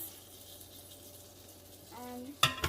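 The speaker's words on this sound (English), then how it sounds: "We're gonna fry the onions" Onions fry in melted butter in a pot for chicken soup, a soft, steady sizzle close by, with a short burst of speech and louder clattering near the end.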